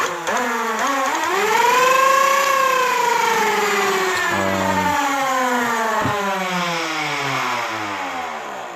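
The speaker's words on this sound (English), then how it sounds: "Might have to do some active motor braking on this thing because it is loud" A modified Nerf blaster motor revs up into a loud, whining drone, its pitch rising, sagging and climbing again, then winding down near the end, heard up close with no talking.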